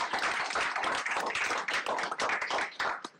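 Applause from attendees at a Board of Commissioners meeting indoors, a brief burst of many overlapping claps, moderately loud and fairly even throughout.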